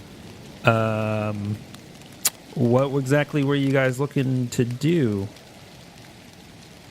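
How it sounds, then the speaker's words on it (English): Steady rain ambience, sudden and heavy, plays as a backdrop to a Delta Green tabletop role-playing session, a soft continuous patter beneath several people talking. "this sudden rain that came out of nowhere"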